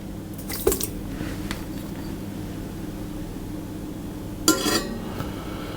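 Raw eggs dropped onto sugar in a stand mixer bowl, making soft, wet plops and squishes in two brief bursts against a quiet kitchen background.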